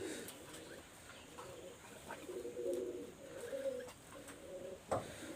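A Teddy pigeon, a red-eyed golden breeding female, cooing softly and repeatedly in low rolling calls, fairly faint against a quiet background with a brief sharper sound near the end.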